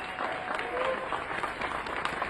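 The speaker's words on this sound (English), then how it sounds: "A big round of applause" Crowd applause at a Los Angeles anti-ICE protest rally, a dense, steady wash of many hands clapping outdoors with crowd noise, fairly distant and continuous throughout.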